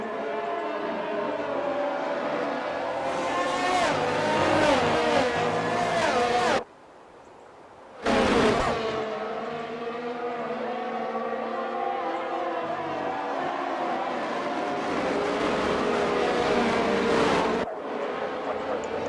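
Formula 1 race cars in a racing video game howl around the fast, flowing turns of Silverstone, engine notes rising and falling in long sweeps, with a brief near-silent gap before the roar returns.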